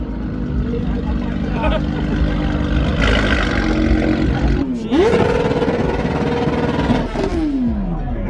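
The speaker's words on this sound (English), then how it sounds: "it's literally a fucking motorcycle" A motorcycle at a large car meet revs hard and roars, pitching up and down through several throttle blips. Crowd noise and other engines rumble behind it.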